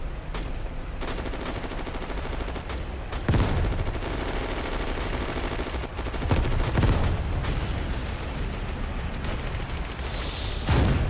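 Gunfire crackles through a WWII Online battle in a French town, with dense, continuous bursts of shots and sharper onsets every few seconds, loud and sustained with no talking.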